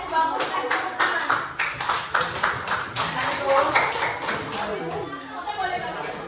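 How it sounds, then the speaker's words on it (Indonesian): Applause in a classroom, many hands clapping in a steady ragged burst across the whole stretch, fairly loud and close, with some voices underneath. "kasih tepuk tangan."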